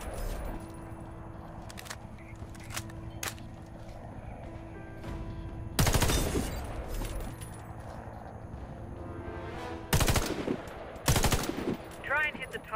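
Gunfire aimed at a target in the video game Warface, in separate loud bursts around six, ten and eleven seconds, with quieter clicks and handling noises between shots.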